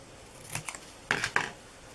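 Scissors snip through gift bag material in a few quick, crisp cuts, the last two sharper and closer together, with no talking.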